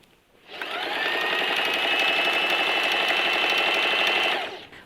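A sewing machine runs steadily for about four seconds, stitching a seam down the side of a rockabilly skirt, its rapid even needle clatter close and loud, starting and stopping cleanly.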